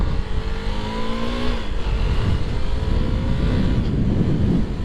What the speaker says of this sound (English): There's a little bit of wind noise.